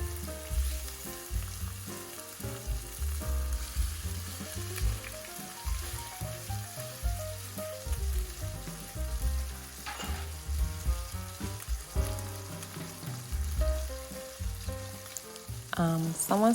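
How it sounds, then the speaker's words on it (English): Lamb neck sears in a very hot pan, giving a steady loud sizzle and crackle with a stirring texture, while music plays underneath throughout. "Make sure it's proper hot if you're browning, otherwise your meat starts like boiling and it defeats the purpose of us searing the meat"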